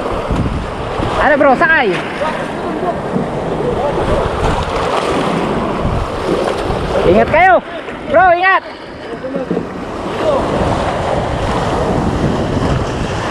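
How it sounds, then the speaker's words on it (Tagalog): Large ocean waves off Calubakan rock a small fishing boat, with a constant rough wash and heavy wind buffeting the microphone, as men call out and talk over it. "Delikado rin talaga mga bro pagka sobrang lalaki ng alon"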